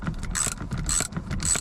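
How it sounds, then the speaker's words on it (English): A ratchet with a deep reach 13mm socket works on a MINI Cooper fuel tank strap nut, three close bursts of rapid clicking spaced evenly about half a second apart. "I'm just putting a deep reach 13mm socket onto it."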